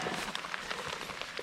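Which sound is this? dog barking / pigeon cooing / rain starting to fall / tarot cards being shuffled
rain starting to fall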